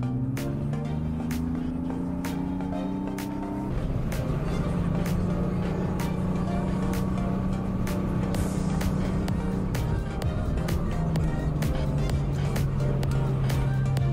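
Porsche Cayman cruising along canyon roads, a steady engine drone heard from inside the cabin that steps up in pitch after a shift, with rhythmic ticking and road noise throughout.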